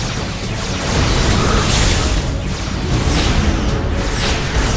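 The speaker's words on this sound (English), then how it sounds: "Open fire! Photonic torpedoes and phase cannons." Sci-fi starship weapons fire, with photonic torpedoes and phase cannons loosed at Romulan ships, produces a continuous loud barrage of booms, bursts and whooshing blasts with no speech.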